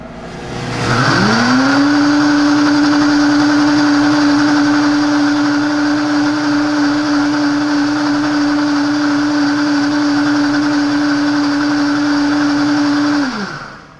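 A detox juicer-blender grinds tomatoes into juice, spinning up quickly into a loud, steady, high motor whine that holds evenly for about twelve seconds before winding down, with no voices over it.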